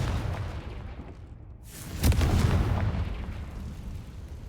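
An explosive blast from the Confringo spell in the game Hogwarts Legacy bursts out sharply near the two-second mark, then a rumbling tail rolls on under steady low game ambience.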